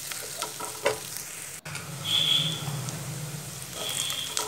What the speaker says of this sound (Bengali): আমি আদা পেস্ট দিয়ে দিলাম, দিয়ে পেঁয়াজটার সাথে আমি খুব ভালো করে ভেজে নিচ্ছি।